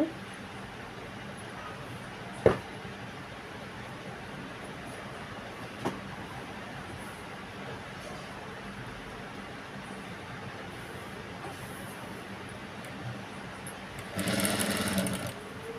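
A sewing machine stitching a blouse runs as a faint, steady mechanical whir throughout, broken by a couple of sharp clicks and a louder burst near the end.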